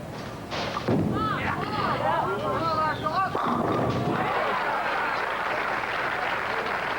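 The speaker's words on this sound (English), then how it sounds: "here is the 5th strike. Bang! He drives all 10 pins in the pit" A bowling ball crashes into all ten pins for a strike at a 1987 professional bowling tournament, a loud thud and clatter followed by crowd applause and cheering that continue to the end.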